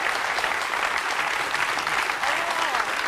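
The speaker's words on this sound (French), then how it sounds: "on peut l'applaudir très fort" A studio audience on a French TV talk show applauds, a dense and steady burst of clapping that stays loud and continuous for the whole stretch.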